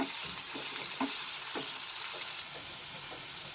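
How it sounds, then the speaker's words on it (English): Sliced onions frying in a pan for aloo gobi curry: a constant near sizzle broken by regular spatula strokes roughly every half second, fading slightly toward the end, with no one speaking. "I will cook this till my onions becomes slightly translucent."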